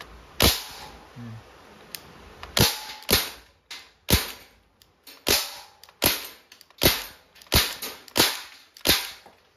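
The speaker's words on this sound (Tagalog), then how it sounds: "dito tuloy-tuloy lang yung putok mo dito, no, hanggang sa maubos yung CO2" A Crosman 1077 .177 CO2 air rifle fires a rapid series of sharp, snappy shots, about a dozen in steady succession, each a crisp crack with a short tail.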